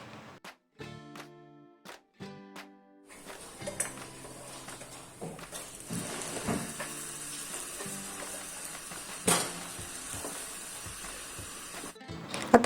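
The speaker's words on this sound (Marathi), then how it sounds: "आता मी इथे थोडंसं बटर घालून त्यावरती पुन्हा एकदा ब्रेड भाजून घेते" Slices of bread toast in melted butter on a pan, a hissing sizzle that swells and stays steady, broken by clinks and scrapes of a utensil against the pan; no one talks.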